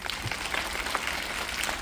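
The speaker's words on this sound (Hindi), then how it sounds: "सभी बच्चे ताली बजाओ जरा" Children clap together at a school Children's Day event, a dense, even patter of many small hands heard at a moderate distance with no pauses.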